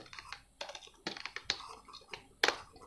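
Fingers type code on a computer keyboard in quick, uneven bursts of clicky keystrokes, with a couple of louder key presses standing out. The keys are close and fairly soft, and no one speaks.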